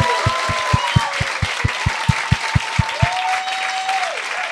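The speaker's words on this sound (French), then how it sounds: "Faites une bonne main d'applaudissement." Studio audience applauding guests on a talk-show podcast, broad steady clapping mixed with music carrying a regular thumping drum beat.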